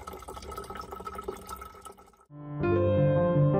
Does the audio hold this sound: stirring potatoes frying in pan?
no